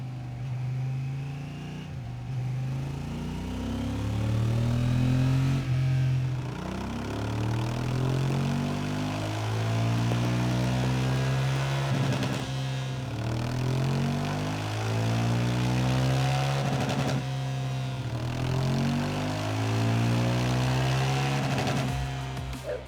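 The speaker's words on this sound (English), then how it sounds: "we're going to get it run up on the dyno, see how Honda have set it up at the factory" A Honda Africa Twin CRF 1100 Adventure Sports Euro 5+ motorcycle engine runs on a dyno, droning loud and steady, with repeated rev rises and falls across the run.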